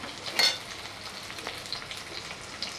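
Chopped onions and curry leaves sautéing in a pan for a Khandeshi Bhogi thali, a soft, steady sizzle with a few brief stirring scrapes, close and fairly quiet, no voices.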